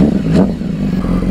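A motorcycle engine rumbles and briefly revs up close while being pushed out, a short loud burst with clattering over a steady low idle.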